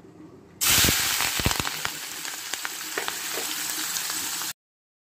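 Prawns fry in hot oil with a sudden, loud, continuous sizzle. Sharp pops and crackles are scattered through it for about four seconds, then it cuts off abruptly, with no talking.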